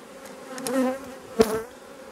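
Honeybees buzz around an open hive, a close, wavering drone that swells and fades as individual bees pass near, with one brief louder pass toward the end.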